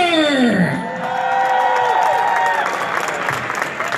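Large arena crowd at Nationwide Arena during a Columbus Blue Jackets fan event applauding and cheering as a speaker takes the stage, a loud sustained roar of clapping with whoops and a voice over the PA.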